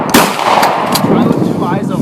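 A BB gun shot outdoors in Alaska, a sharp crack near the start and another snap shortly after, followed by a faint rattle and background noise.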